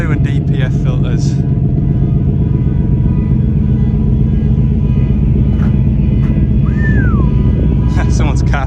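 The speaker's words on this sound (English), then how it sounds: "Listen to them exhausts humming away." Vehicle exhausts hum steadily nearby in loud, continuous road traffic, with a low rumble throughout, brief higher-pitched tones, and voices talking over it.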